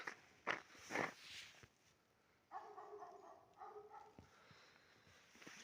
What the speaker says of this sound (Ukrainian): Собаки вже йдуть гавкати.